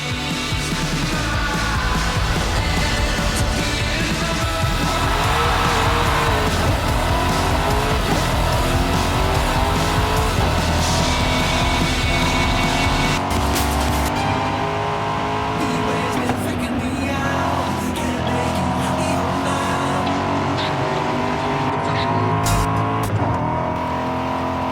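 Race car engines roar in the video game Forza Horizon 5, loud sustained revving with rising and falling pitch sweeps and some tire squeal, continuous and close throughout.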